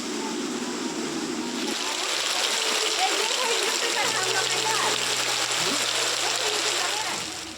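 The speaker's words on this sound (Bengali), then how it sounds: "এই যে বাইরে যে বৃষ্টি হচ্ছে সেটা তোমাদের সঙ্গে একটু শেয়ার করলাম। দেখতে পাচ্ছ কতটা বৃষ্টি হচ্ছে।" Heavy rain pours down outdoors as a steady, dense hiss and splatter that keeps going without a break, with a faint low hum running underneath.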